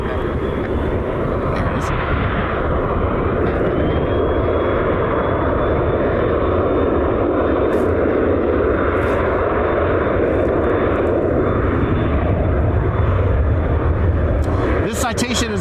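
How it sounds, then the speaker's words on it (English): A Citation jet departs an airport in Cleveland, a loud, sustained roar with a whining tone that rises and sweeps across, heard steadily throughout with brief clicks near the end. "We'll get the Citation that's holding short for departure."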